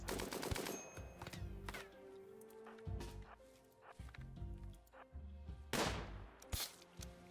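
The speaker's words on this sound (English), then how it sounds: "some good shooting right there" Gunfire in the Rimworld colony game, rapid clattering bursts of small, dry shots in irregular clusters, fairly quiet, mixed with assorted clicks and interface tones.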